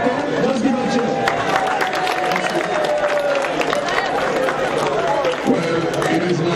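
An outdoor crowd at a Commonwealth Games baton relay ceremony in Dominica cheers and claps steadily for a youth ambassador, a loud, continuous wash of voices and applause.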